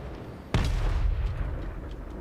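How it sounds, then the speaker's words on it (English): A Grand Cannon fires in Total Warhammer III: one sudden heavy boom with a sharp crack, followed by a deep rumbling tail that stays loud against a steady battle background. "Oh my god, the Grand Cannons, dude. Thumping the Salamander. I love the noise."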